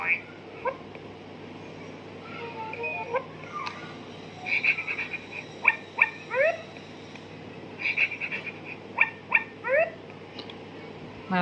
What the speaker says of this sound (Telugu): డాగ్ బాక్ చేసినట్టు మనకి ఇందులో సౌండ్ వస్తుందండి అట్లాగా.